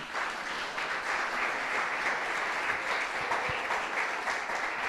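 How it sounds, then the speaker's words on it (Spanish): An audience at a Sunday talk applauds in a steady, moderately loud wash of clapping that runs throughout and holds constant with no speech over it. "Un aplauso para los cavernícolas."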